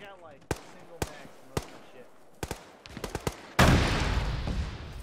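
Gunfire and RPG fire in a ShackTac military video game: several sharp, separate shots ring out at uneven intervals, then a loud sustained blast of explosive noise fills the last second and a half.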